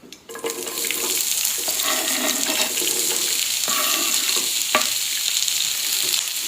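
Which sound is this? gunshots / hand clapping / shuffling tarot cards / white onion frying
white onion frying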